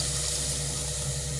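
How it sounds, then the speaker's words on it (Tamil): Water steadily pouring into a pot while making mutton curry, a continuous steady splash and trickle heard close by with no talk. "தண்ணி ஊற்றிக்கலாம்"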